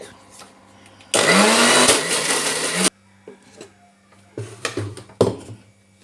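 A mixer grinder grinding dosa batter whirs loudly for a couple of seconds, then cuts off, followed by light clatter and a voice talking.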